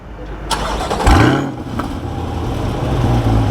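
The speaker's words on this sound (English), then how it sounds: "So I have my friend quickly start up the car." A 2021 Chevrolet Corvette C8 sports car engine starts up close by, a sharp crank followed by a loud rising rev that settles into a deep, rumbling idle.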